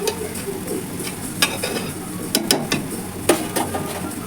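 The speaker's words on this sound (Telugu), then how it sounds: "ఒకసారి కలుపుకొని లైట్ సిమ్లో పెట్టుకొని చేసుకోవాలి ఫ్రెండ్స్," Potato fry being stirred in a pan over a low flame: a steady soft sizzle with scattered clinks and scrapes of the spoon against the pan, close up and alone.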